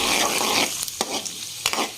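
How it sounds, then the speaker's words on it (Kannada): Chana dal and urad dal fry in oil over a medium to high flame, hissing and sizzling loudly. A few sharp stirring scrapes come from close by. "ಕಡ್ಲಿ ಬೇಳೆ ಮತ್ತು ಉದ್ದಿನ ಬೇಳೆ ಒಂದ್ ಸ್ವಲ್ಪ ಕೆಂಪಗಾಗೋ ತರ ಮೀಡಿಯಂ ಟು ಹೈ ಫ್ಲೇಮ್ ಒಳಗೆ ಇದನ್ನ ಫ್ರೈ ಮಾಡ್ಕೊಳ್ಳೋಣ್ರಿ"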